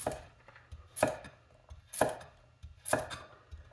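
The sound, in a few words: vintage chef knife doing an oblique cut through a carrot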